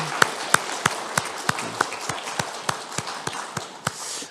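Church congregation at a Korean Sunday service claps in a steady rhythm of sharp single claps, a dozen or so evenly spaced strokes, moderately faint in a reverberant hall.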